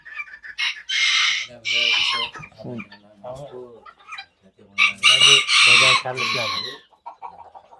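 Decorative bantam roosters at a poultry farm crow in two loud bursts, with clucking and other birds in between, while a person talks nearby.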